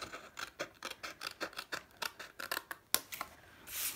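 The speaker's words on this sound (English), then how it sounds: "So just trim these bits off." Scissors trimming small bits off paper or card for a concertina index box, a rapid run of crisp snips close by, about twenty quick cuts in a steady rhythm ending with a brief rustle.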